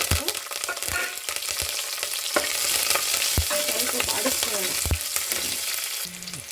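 Green chillies and curry leaves crackle and sizzle in hot oil while a spoon stirs and scrapes the pan with steady clinks, a dense continuous frying hiss running throughout with no talking.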